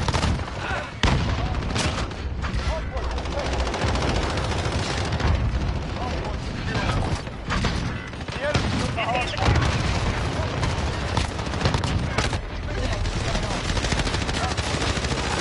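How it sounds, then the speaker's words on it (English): Dense, relentless gunfire, including shotgun blasts, rattles through a Call of Duty: Modern Warfare multiplayer match, with loud overlapping shots and booms almost without pause while a player talks throughout. "I swear everybody pulled out a shotgun after a while."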